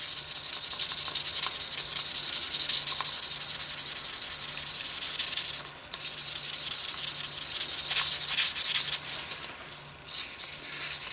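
A leathercraft hammer face rubbed with 1200 grit sandpaper: steady, rhythmic scratchy strokes, close and fairly loud, briefly pausing a couple of times before resuming.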